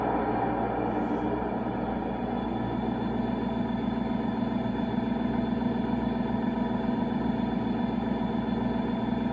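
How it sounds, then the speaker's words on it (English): A steady, low engine rumble from an LGB 2095 model locomotive sound unit, with a constant mechanical hum, idling evenly and close by for the whole stretch. "you hear the engine rumbling nicely now"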